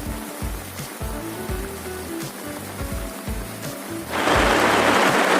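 Steady heavy rain pours down on a green forest, a dense hiss that swells louder near the end, with low rumbling thumps underneath.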